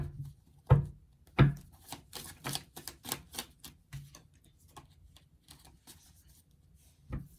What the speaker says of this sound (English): Sloppy shuffling.